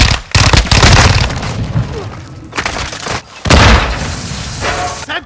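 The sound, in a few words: Semtex grenade explosion in the video game Call of Duty: Modern Warfare II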